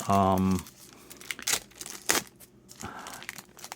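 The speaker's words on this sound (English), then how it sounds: "So let's open up one of these IndyCar packs first." Crinkling and tearing of a foil wrapper on an IndyCar trading card pack, close and fairly loud in several bursts, with a person speaking over it and a short tone at the start.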